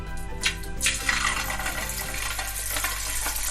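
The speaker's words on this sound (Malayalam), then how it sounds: "അതിലേക്ക് ഒരു ചെറിയൊരു കഷ്ണം നമുക്ക് ഇട്ട് നോക്കാം" A small test piece of chicken for chilli chicken dropped into hot frying oil, a sudden splash and bubbling that settles into a soft steady hiss, close and fairly quiet.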